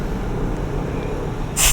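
A short, sharp hiss of air escaping from the tire valve of an 11-year-old Kawasaki Fury 125R motorcycle rises out of a low background hum right near the end.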